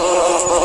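Bees give a short, steady insect buzz, a close, loud, continuous drone lasting well under a second.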